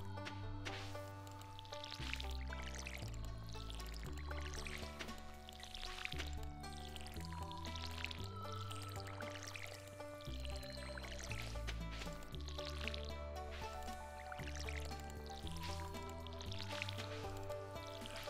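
A watering can refills with water in the farming game Stardew Valley, with faint drips and a pouring sound beneath steady background music.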